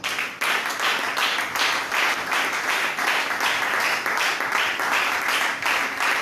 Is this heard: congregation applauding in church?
yes